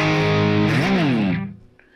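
Distorted electric guitar playing a riff, a sustained chord sliding up the neck and back down before fading out, alone and close.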